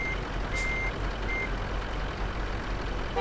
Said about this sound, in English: I'm going to have to do a little reverse manoeuvre.